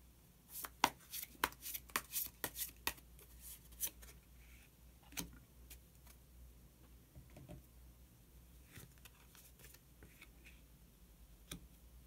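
A tarot card is drawn from a deck during a reading: sharp, quiet card snaps and flicks come in a quick cluster at first, then sparser single clicks against a near-silent room.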